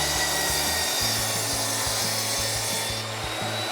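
A handsaw cuts through a wooden board for a cabinet hutch, giving steady back-and-forth rasping strokes at a close, even rhythm that run for several seconds with no talk.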